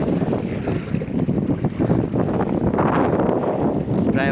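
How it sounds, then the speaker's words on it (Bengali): A sailboat with a tarpaulin sail moves under wind on the Padma river, a steady close rush of wind across the microphone and water washing against the hull, with no talk. "পালতোলা তিরপালের মাধ্যমে বাতাসের সাহায্যে নৌকাটা আগাচ্ছে"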